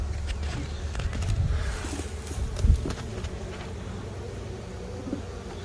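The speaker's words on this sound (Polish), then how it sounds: "Tutaj może być trochę bardziej agresywnie, bo tu jest bardzo dużo pszczoły." A dense, steady buzz of many Buckfast honeybees swarming close around an open hive, with occasional louder passes and faint rustling throughout.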